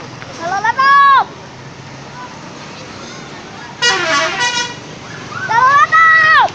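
A Dua Subur Jaya bus sounds its musical telolet horn in three separate bursts of bright, warbling multi-tone melody, loud and close over roadside noise.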